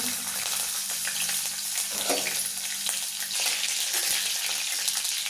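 Garlic sizzles in hot oil with mustard seeds and cumin, giving a steady, close crackle and hiss that holds through the whole stretch with a low hum beneath and no talking.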